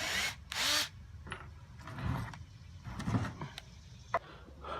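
A power drill spins out screws from a small clay and wood replica piece, giving short whirring bursts of varying length with quieter pauses between them, close and fairly faint.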